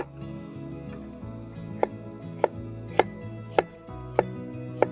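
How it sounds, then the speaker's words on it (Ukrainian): Six sharp knife taps on a cutting board at a steady pace, each crisp and close, over a low background hum, as an onion is sliced thinly. "Я нарізаю цибулю дуже тонко."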